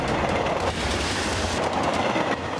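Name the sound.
train approaching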